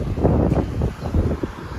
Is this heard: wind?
yes